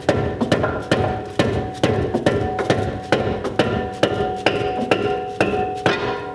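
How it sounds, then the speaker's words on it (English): A dead blow hammer strikes the front wheel hub of a Kia Stinger GTS in a steady run of about a dozen loud, close, evenly spaced thuds, with no talking. "We'll do this with a dead blow first to see if it comes loose."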